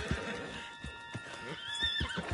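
Horse whinnying in a PS4 video game, several short neighs with soft hoof clip-clop beneath, close and clear, with game music tones running underneath.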